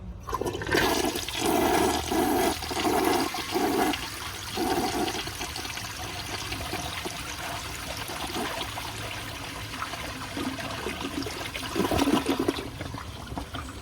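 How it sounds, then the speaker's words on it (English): A 1985 Briggs Conserver toilet flushes with a loud, steady rush of water that swirls and gurgles for several seconds, then settles into a quieter refill trickle, with no talking. "Let's give it a flush, see how it does on tests."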